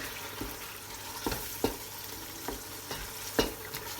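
Spiced meat roasting in a pan for an okra stew, a quiet steady sizzle with a handful of sharper spoon knocks and scrapes spaced through, close and alone.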